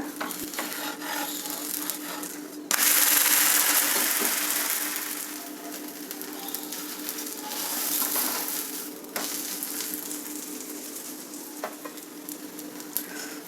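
An uttappa made from leftover rice cooks on a pan with a steady, close sizzle that swells sharply as the lid comes off, then settles into a continuous frying hiss with a few small scrapes.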